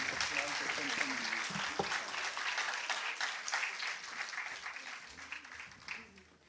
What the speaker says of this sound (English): Can I please request the audience to welcome them with a bigger round of